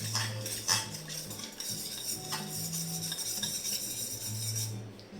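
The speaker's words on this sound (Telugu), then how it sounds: "మిక్స్ చేసేసుకున్నాము." A spoon stirs a water mixture in a bowl while homemade ice cream is prepared, giving close, continuous scraping and clinking of metal against the dish, with no talking.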